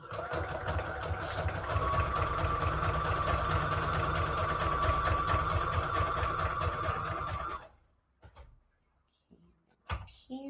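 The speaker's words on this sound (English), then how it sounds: "And I'm sewing it with the pretty part going to be outside" A sewing machine stitches a napkin paper envelope in one steady, loud run of rapid rhythmic needle clatter and motor hum, then stops abruptly, leaving faint handling clicks and rustles.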